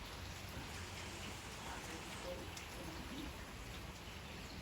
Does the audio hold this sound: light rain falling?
yes